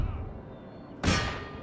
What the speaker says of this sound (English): Right, cannons fire away.